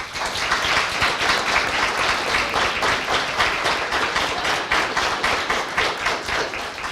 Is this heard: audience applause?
yes